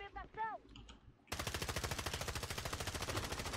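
Rapid automatic gunfire in Call of Duty Warzone, a sustained burst of evenly spaced shots after a brief moment of a player talking, fairly loud and close.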